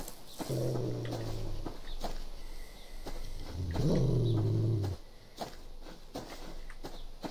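Low, drawn-out wolf growls from the survival video game Subsistence, two rumbling snarls a few seconds apart, fairly close, over quiet ambient game sound with no talking.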